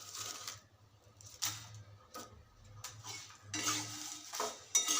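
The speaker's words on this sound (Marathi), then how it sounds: "या ठिकाणी तमालपत्र मी 2 मिनटं मंद गॅसवरती भाजून घेतले" Bay leaves being dry-roasted in a pan over a low flame, heard as quiet, intermittent metal scrapes and light clinks of a spoon moving them around, close up with soft pauses between strokes and no speech.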